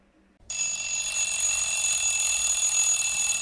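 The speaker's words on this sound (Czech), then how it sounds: "Voku zvoní budík." An alarm clock starts ringing after a brief silence, a loud continuous high-pitched electronic bell tone that holds steady to the end.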